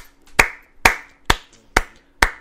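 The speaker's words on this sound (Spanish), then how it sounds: "Te sigo aplaudiendo porque te lo mereces" Five sharp hand claps ring out at an even, unhurried pace, each a crisp, close slap with a short decay, standing alone with no talk over them.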